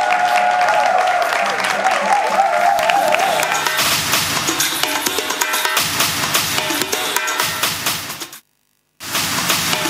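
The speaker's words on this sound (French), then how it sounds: "applaudissez et faites du bruit" Audience applause and cheering at a live variety show event, a loud, dense crowd roar with clapping that swells, drops out briefly near the end, then resumes.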